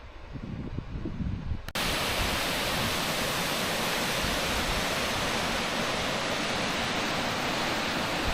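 Mitchell Falls roaring as a dense, constant wash of falling water that bursts in abruptly loud and stays steady, after a brief quieter rustle.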